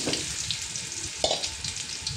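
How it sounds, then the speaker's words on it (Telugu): Boiled eggs and curry leaves fry in hot oil with a close, steady sizzle broken by occasional louder spits and crackles. No one speaks. "కరివేపాకు వేసుకొని ఈ ఎగ్స్ అయితే ఇందులో వేసేసుకుందాము"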